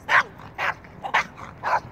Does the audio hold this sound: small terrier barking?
yes